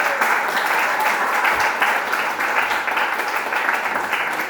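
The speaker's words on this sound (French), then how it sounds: "Alors on peut aussi applaudir Pascal." An audience at an art and testimony event in Fréjus claps steadily and evenly, a sustained round of applause without talk.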